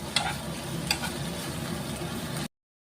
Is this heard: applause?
no